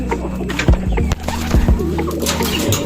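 Racing pigeons arrive at their loft, with soft cooing, wing flaps and scattered thumps and bumps close by over a steady background hum.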